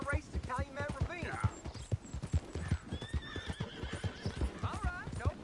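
A horse in a video game whinnies and its hooves clip-clop steadily throughout, up close, while a character's voice talks over the sounds.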